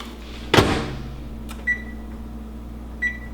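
A microwave oven is set to cook rice packets: a sharp door clunk, then a few short electronic beeps over the appliance's low steady hum, with no talking.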